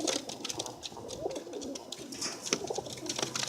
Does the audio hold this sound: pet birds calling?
yes